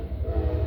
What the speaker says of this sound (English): I don't know if you heard that. That was a train.